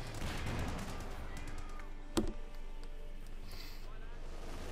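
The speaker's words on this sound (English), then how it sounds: "We got more artillery called in." Artillery barrage in Company of Heroes 2, a WWII strategy game, with a Sexton battery shelling alongside Panther tanks and Sturm Pioneers; rumbling gunfire and one sharp, loud blast sit under steady commentary.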